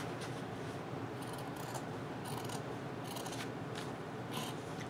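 Scissors cut notches into fabric for a scrub cap made from fat quarters or scraps, giving several crisp, close snips in an irregular rhythm over a soft rustling background.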